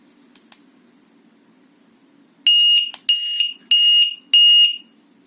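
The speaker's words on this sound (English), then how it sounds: "press and hold this down until it chirps" An anti-theft horn alarm built into a China-made bike headlight gives four loud, shrill electronic chirps in quick succession, each about half a second long, after a few faint button clicks.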